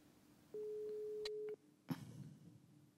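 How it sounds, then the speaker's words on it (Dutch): A telephone ring tone sounds as one steady electronic beep lasting about a second, followed by a click and quiet line noise before the call connects. "Ik hoor een telefoon afgaan."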